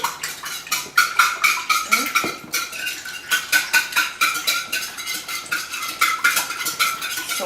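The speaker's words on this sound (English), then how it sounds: "now I'm going to whisk it" Eggs and salt are whisked in a mixing bowl, a fast steady rhythm of metallic clicks and taps against the bowl, close and even, continuing without pause and with no talking.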